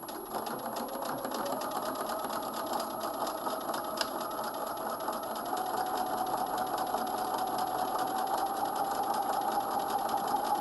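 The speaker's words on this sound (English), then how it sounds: "very carefully edge stitch" A sewing machine edge stitches along a coat seam, a steady continuous mechanical whir that holds an even level throughout, with a faint rising tone in the later half.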